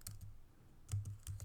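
Quick keystrokes on a computer keyboard come in short clusters with brief pauses, close but quiet, while Ruby on Rails code is being written, with no talking.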